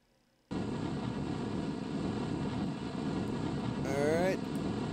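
A spacecraft engine thrusts steadily in Kerbal Space Program, a continuous broadband roar starting abruptly after a brief quiet moment and holding loud, with a short rising whistle-like tone near the end.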